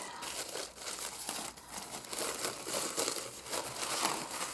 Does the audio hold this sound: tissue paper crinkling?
yes